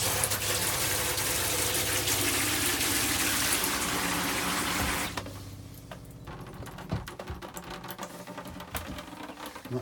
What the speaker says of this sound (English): See if we can get the shower working.